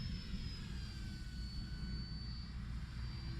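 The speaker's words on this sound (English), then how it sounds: "Man, what a great plane." A Turbo Timber Evolution radio-controlled plane running on a 4S battery flies overhead, a steady electric motor and propeller whine with a rising pitch and no talking.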